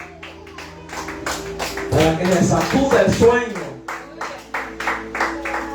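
Church congregation clapping hands to praise Christ during a Spanish-language sermon, a rhythmic burst of claps under a preacher's loud speaking and a murmuring crowd.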